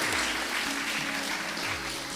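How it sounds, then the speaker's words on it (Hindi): Audience applause for Dr. Shailesh Shrivastava at a Megh Malhar folk singing evening, a dense, sustained burst of clapping from a sizeable crowd filling the hall. "यकीनन जोरदार तालियां हैं"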